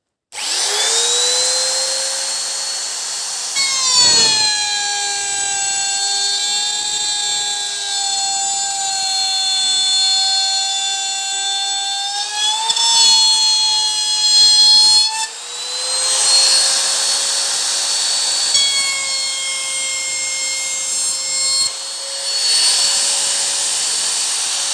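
A wood router with a 6 mm bit cuts a third groove into timber along a guide strip, a loud sustained high whine that holds steady with brief dips and pitch shifts as it bites.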